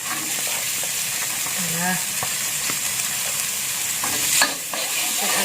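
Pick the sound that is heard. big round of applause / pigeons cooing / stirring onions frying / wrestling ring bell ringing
stirring onions frying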